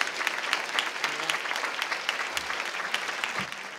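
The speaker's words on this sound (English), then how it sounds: "Let's give her a round of applause." Audience applause at a speaking event, a steady, fairly close wash of many hands clapping with scattered sharper claps, continuing throughout.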